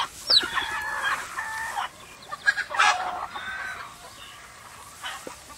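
Chickens cluck and squawk nearby in an irregular, busy chorus, with a few sharper calls standing out, and no talking.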